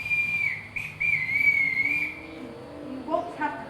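A drawn-out whistle, one steady sustained tone blown as a household signal to summon the children, close and fairly loud, ending in a short break and a few brief flutters.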